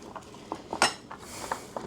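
Vegetables being tossed with avocado oil in a dish, giving a few light clinks and scrapes of a utensil against the dish, close and brief with no talk.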